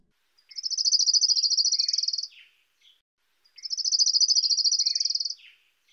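An orange-crowned warbler on Vancouver Island sings two bright, rapid trills about three seconds apart, each a dense buzzy run lasting nearly two seconds with a few faint chips after, clear and alone against silence.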